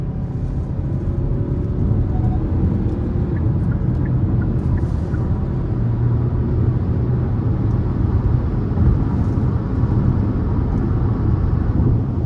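A 2023 Hyundai Tucson SEL with the 2.5 engine accelerates under moderate throttle while merging onto an interstate, a steady broadband engine and road rumble droning continuously throughout.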